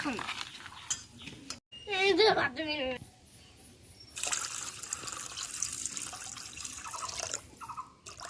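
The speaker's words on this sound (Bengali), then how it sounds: "এর জন্য এর মধ্যে একটু জল মিশিয়ে নেব" Water trickles and splashes into a sweet sharbat syrup made with 7 Up and candies, with clinking against the container and a voice talking over parts of it.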